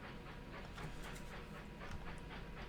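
Train setting off in the Railroad Tycoon 3 video game, a steady rolling rail rumble with faint rhythmic clatter, moderately quiet and continuous with no talk.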